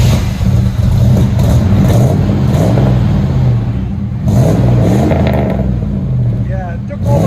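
A 1993 Chevy Caprice Classic wagon with a 5.7L V8 and Magnaflow Magnapack single exhaust revs up close and loud, the throaty engine rising and falling in repeated throttle blips over a steady idle rumble.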